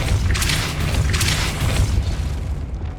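A Depulso spell cast in Hogwarts Legacy, a deep booming blast with a whooshing burst that swells twice and then fades, loud and without talk.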